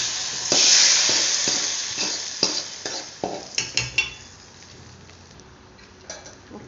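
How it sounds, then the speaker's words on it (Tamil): Tempering tipped into a pachadi sizzles loudly at first, then a spoon scrapes and clinks against the pan in a quick run of knocks before the frying fades to a soft crackle. "தாளிசத்தை இதில் போடணும்."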